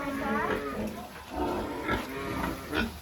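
A boar munches freshly harvested sweet potatoes mixed with grass, giving close, wet chewing and grunting sounds over a steady background, with a voice speaking nearby.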